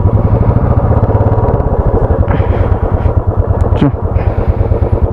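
A motorcycle carrying a rider and a passenger rumbles loudly and continuously close by, its engine note shifting as gears change, with voices talking over the ride.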